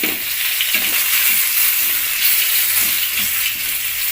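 Bangda mackerel fries in hot oil for a Malvani-style fry, a loud, dense, continuous sizzle close up with occasional soft knocks of a utensil beneath it.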